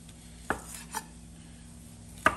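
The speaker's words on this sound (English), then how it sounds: "I'm still learning how to chop now." Knife chopping food on a cutting board while cooking Cajun chicken alfredo, three sparse, sharp chops spread apart in a quiet kitchen.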